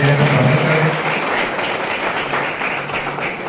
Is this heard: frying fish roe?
no